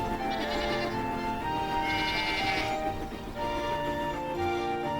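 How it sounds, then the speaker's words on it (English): Goats on a cartoon farm bleat repeatedly, several wavering nasal cries overlapping in a clear, fairly loud chorus with no talking. "There are farms with goats."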